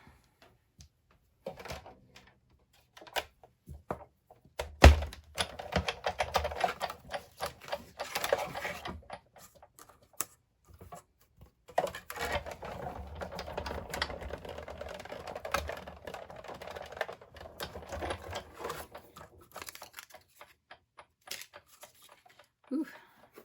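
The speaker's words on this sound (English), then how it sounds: "So let's do a little bit more die cutting." A die cutting machine cuts paper in a crafting session, giving a run of close, dense clattering mechanical rattles with a sharp thump near the start and brief pauses between passes.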